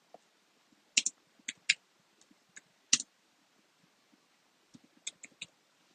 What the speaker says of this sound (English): I'm typing ASMR.